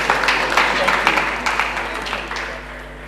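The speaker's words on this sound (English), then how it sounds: "a big round of applause to them." Guests at an awards nominee party break into applause, with rapid clapping that starts strong and slowly fades, while a voice carries on over the noise.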